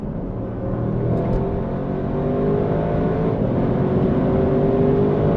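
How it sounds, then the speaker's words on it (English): An Audi RS6 Performance with a V8 engine accelerates hard, its deep engine roar building steadily and growing louder from inside the car, with no voices. "And listen to that V8."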